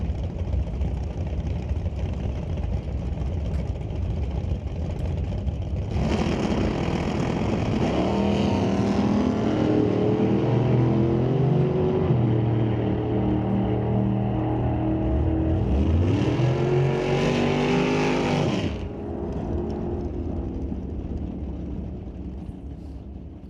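Drag race cars at Mission Raceway, an engine droning steadily then roaring up through rising revs as cars launch and pull away, a second car revving hard before the noise cuts back to a lower rumble.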